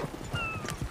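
Horse hooves clip-clopping in quick uneven steps, close and moderately loud, with a faint whinny-like tone mixed in.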